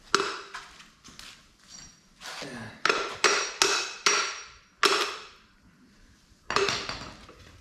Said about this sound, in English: just put a screwdriver in here, hammered on either side of the bearing